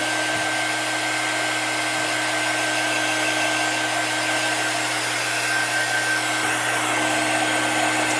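A handheld quick dry heat tool runs continuously while melting excess wax on a chalk-painted craft surface, a steady whirring blower hum with a faint electrical whine, unchanging throughout.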